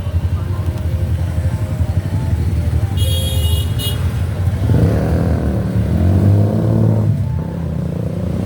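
Busy road traffic in India, with cars and motorcycles moving past and a brief horn toot in the middle, a steady engine rumble swelling later; a person talks over it.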